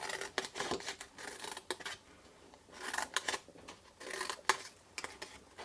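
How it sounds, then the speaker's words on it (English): Small, very sharp scissors snip through paper while fussy-cutting a craft box, a series of crisp close cuts in short uneven bursts with brief pauses between them. "Gosh, they're very sharp scissors."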